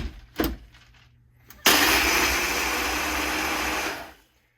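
A countertop blender blends a daiquiri, with a couple of brief clunks as it is set up, then the motor roars on abruptly and runs steadily and loudly for about two and a half seconds before cutting off.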